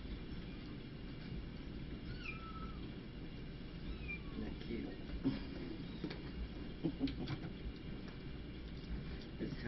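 A cat gives a few faint, thin meows over a steady low rumble of background noise.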